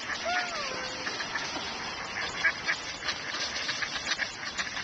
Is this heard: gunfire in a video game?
no